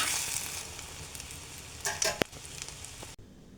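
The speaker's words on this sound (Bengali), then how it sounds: "তো এটা হলো ওর বাবার জন্য ডিম আমলেট করে নিচ্ছি মরিচ পেঁয়াজ দিয়ে" An egg omelette with chili and onion frying in a pan, with a close, steady sizzle and a few louder stirring scrapes near the end before it cuts off.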